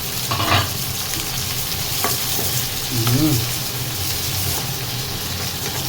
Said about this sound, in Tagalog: Ihalo natin yung ating sibuyas at luya.